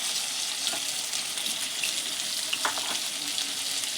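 Spices, chopped tomato and eggplant fry in a pan with a steady, close hiss and sizzle, with occasional small crackles and pops and no talking.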